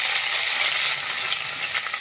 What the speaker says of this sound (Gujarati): હવે આપણે વઘાર કરશું। તો આપણે આ આદુ લસણની પેસ્ટ છે એ એડ કરશું પહેલા